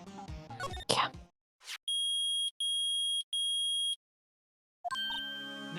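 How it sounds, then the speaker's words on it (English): Metal detector in the Ace Attorney video game beeping three times in steady, evenly spaced electronic tones, loud and alone, after some game jingles and sound effects, with more game music starting at the end. "It's beeping! The metal detector's found something."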